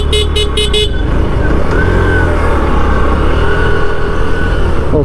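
A 2025 TVS Sport 110 motorcycle engine hums steadily on a test ride, its drone loud and close with road wind, a few short horn toots at the start.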